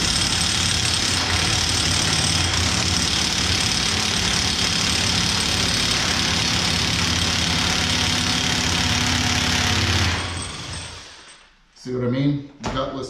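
A DeWalt impact wrench strains against a 1-1/4 inch wheel bearing nut on a Can-Am X3. It makes a loud, continuous buzzing hammer for about ten seconds, then stops, and a brief voice follows.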